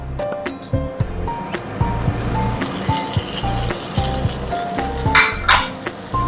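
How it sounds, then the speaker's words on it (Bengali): Paneer cubes and thecha cooking over a medium flame in a pan, with a soft hiss of sizzling under frequent clinks and scrapes of a utensil against the metal. "ফ্লেমটাকে মিডিয়ামে রেখেই থেচাটাকে একটু কুক করে নেব আর এর মধ্যে এখন দিয়ে দেব এই যে পনিরটা কেটে রেখেছি"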